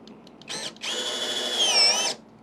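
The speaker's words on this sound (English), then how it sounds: "And now I'm anchoring these shelves with my drill here" A power drill drives screws into a shelf: a short burst of whirring, then a steady run of over a second with rising pitch before stopping, close and loud.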